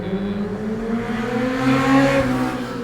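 A motorcycle engine revs in a steady, continuous drone whose pitch climbs and swells toward the middle before easing slightly, loud and close throughout.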